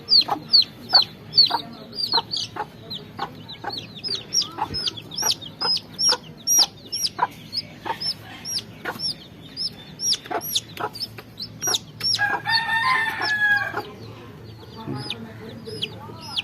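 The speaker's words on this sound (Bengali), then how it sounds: "এগুলো আমার সবগুলো দেশি মুরগি বাচ্চা" Native chicken chicks cheep in rapid, high, repeated peeps, close up, with a brief louder, more sustained squawk near the end.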